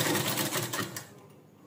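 A sewing machine with a normal presser foot stitches lining cloth at a half-inch seam allowance, a steady close-up whir that runs continuously, slows and fades toward the end, then briefly picks up again.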